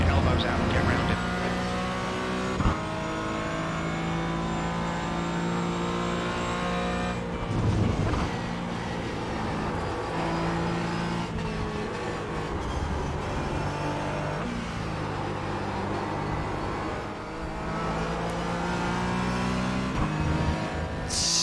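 Porsche Cayman GT4 race car engine droning steadily at Silverstone in iRacing, with tyres beginning to slip and scrub through a corner under continuous loud engine noise while someone talks over it.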